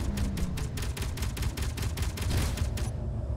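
Rapid automatic turret fire from Space Engineers, a dense run of sharp evenly spaced shots close and loud for about three seconds, then cutting off to quiet.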